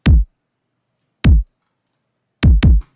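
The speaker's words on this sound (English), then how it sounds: "Then I just layered that with this sub-ear kick just to give a bit more lows" A kick drum layered with a sub kick for extra low end hits loud and dry in a sparse pattern: two single thumps spaced apart, then a quick double hit, each with a deep booming tail.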